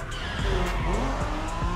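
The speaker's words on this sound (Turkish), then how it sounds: "Bir drift olayını bir görmek istedim ben de." A car drifts sideways in the racing game The Crew Motorfest, its engine roaring steadily while tires squeal in repeated short bursts, loud and close throughout.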